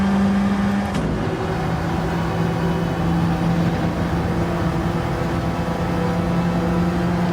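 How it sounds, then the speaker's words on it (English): A Honda NSX race car in Gran Turismo 7 drones at high revs down a straight, a steady, loud engine hum with a brief gear-change blip early on, sustained without talk. "The NSX is incredibly fast on the straight."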